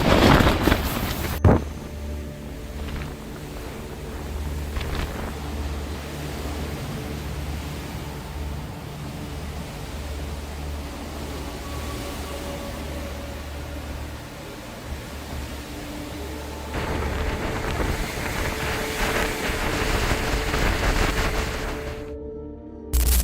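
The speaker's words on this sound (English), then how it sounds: "steady winds and heavy gusts make meaningful sleep nearly impossible" Storm winds and heavy gusts batter a wilderness shelter at night, a steady, loud roaring rush with deep low rumble that swells louder near the end, close to the microphone and without speech.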